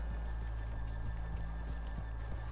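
Hooves clip-clop at a slow walk over steady outdoor rumble, with a horse faintly nickering.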